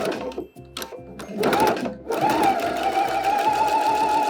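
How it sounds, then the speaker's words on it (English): A sewing machine stitches ribbon onto a dress strap, starting with a few short bursts and a back stitch, then running in a steady, close, continuous hum. "we're sewing the ribbon to the strap"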